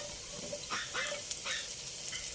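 Carrot frying in butter with onion and garlic, a low steady sizzle running throughout, broken by a few soft stirring scrapes, close up and fairly quiet with no voices.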